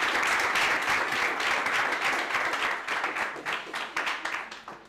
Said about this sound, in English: Let's give a round of applause for Franz to come and introduce the speaker